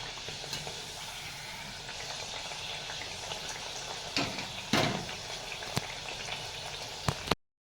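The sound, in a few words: til-gul poli flatbread roasting in pan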